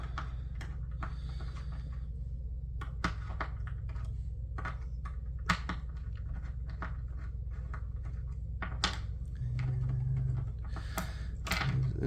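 Small body screws are backed out of a Microtech Ultratech knife with a driver, giving close, faint ticks and light clicks over a low steady hum, with a brief louder whir near the end.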